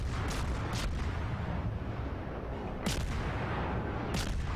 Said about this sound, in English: Okay, I'm shooting behind him